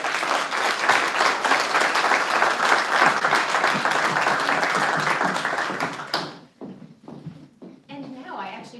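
An audience at a library event applauds loudly and steadily for about six seconds, then the clapping drops away abruptly, leaving a few scattered claps, a short cheer and room noise.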